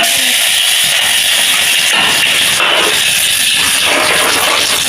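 Hot oil steaming hard in a pan on a home kitchen stove gives a steady, loud broadband hiss that runs throughout, with faint clatter beneath it.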